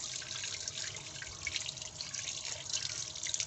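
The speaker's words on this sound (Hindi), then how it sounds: "इस तरह खुले पानी में इसको साफ़ करेंगे" Water runs and splashes in a sink while pieces of fish are rinsed under an open tap, a steady close trickle with small irregular splashes and drips throughout.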